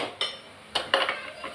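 A utensil scrapes and clinks against a clay pot as rasam with green chillies and curry leaves is stirred, giving a few short, close knocks over a quiet background.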